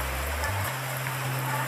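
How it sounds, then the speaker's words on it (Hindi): Heavy monsoon rain pours outside a coaching building, a dense, even hiss over a low hum, heard for under two seconds. "बारिश आप देख सकते हैं रुकने का नाम नहीं ले रही"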